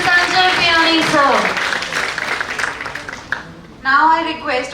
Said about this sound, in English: Big round of applause for Professor Sanjay Biyani, sir.